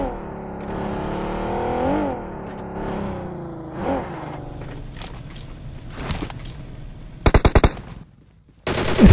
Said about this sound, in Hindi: हमारे ऑफलाइन प्लेयर पर फायरिंग होती है